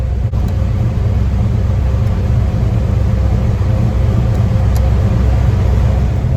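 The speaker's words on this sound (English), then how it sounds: "I get to go test the car and see how much boost this thing is actually making." Turbocharged Ford Foxbody Mustang engine on a test drive, a steady loud low rumble that holds evenly throughout with no speech over it.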